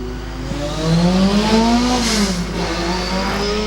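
A hillclimb race car on a run, its tyres smoking, revs hard nearby with a loud, sustained engine note that climbs in pitch, eases, then holds steady.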